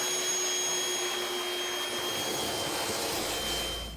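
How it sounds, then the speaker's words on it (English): A vacuum cleaner runs loud and steady close by, sucking up debris inside a tiled shower, with a constant whining drone and high tones that fade slightly at the end. "I'm just gonna vacuum all this up."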